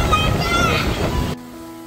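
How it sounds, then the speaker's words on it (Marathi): Arabian Sea waves near Sindhudurg fort: a broad, windy roar of surf that cuts off abruptly just before the end, with no voices. "हा अरबी समुद्र आहे आणि अरबी समुद्राचं हे दृश्य आहे"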